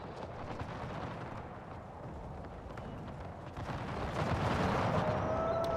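Cannon artillery fire in the video game Empire sounds as a dense, continuous rumble of distant blasts and crackling volleys, growing louder toward the end with no talk.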